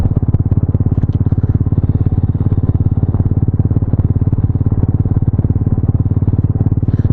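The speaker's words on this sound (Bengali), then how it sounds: "বাইক চলছে এখন" A motorcycle rides along a road at about 40 in freezing weather, its engine a loud, steady, close-up drone with a rapid pulsing throb that runs continuously without a break.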